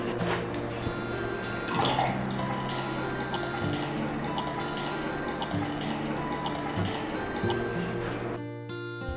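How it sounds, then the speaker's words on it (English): Molten wax streams steadily from the spout of a TOAUTO 6-quart digital wax melter in a smooth, continuous liquid trickle, with soft background music and light ticking running underneath. "Spout moves really nice and the wax flows great."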